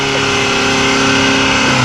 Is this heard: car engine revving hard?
yes